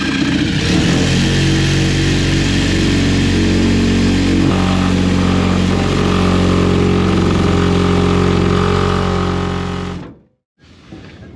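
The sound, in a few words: Sawzall reciprocating saw cutting rubber fuel tank hose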